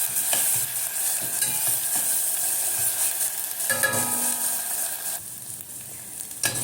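Frozen garlic fries in a pan while being stirred, a close, continuous hiss of sizzling oil with scraping stirs and crackles that shift in intensity.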